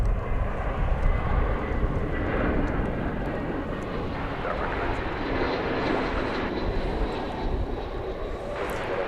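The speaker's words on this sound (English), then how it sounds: "A flight coming in from Denver at this moment" Airliner arriving from Denver at DFW Airport, a broad steady engine roar that stays loud and continuous throughout, with a faint hint of voices in the background.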